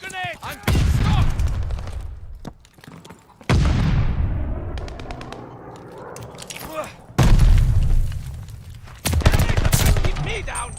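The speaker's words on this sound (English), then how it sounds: "Tossing stun grenade!" Loud bursts of automatic gunfire and explosive booms, with a stun grenade going off, fill a Call of Duty MW2 firefight, the blasts separated by fading echoes and with some talk in between.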